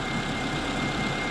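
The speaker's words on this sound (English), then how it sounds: "warm the engine" A Toyota RAV4 engine idles while warming up after a water pump and tensioner replacement, giving a steady, even low rumble throughout with no voices.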